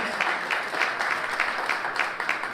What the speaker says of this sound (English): Keep clapping, keep clapping. Let me hear it again